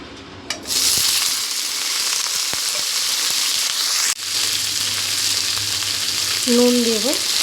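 Broccoli frying lightly in oil in a wok, a bright continuous sizzle that jumps in after a short clatter and carries on steadily, with occasional stirring scrapes and one brief break.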